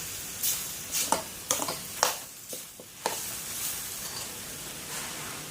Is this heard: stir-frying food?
yes